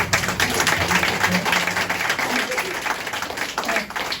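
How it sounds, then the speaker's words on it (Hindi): Congregation at a Sunday church service clapping together, dense steady applause with voices mixed in throughout. "Can we all clap?"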